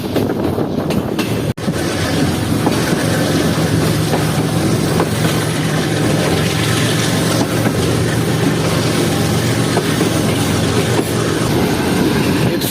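A Pakistan Railways train hauled by a GMU20 locomotive running near Karachi, heard from on board as a loud, steady rumble with rhythmic wheel clatter and rattling carriages, one sharp jolt early on.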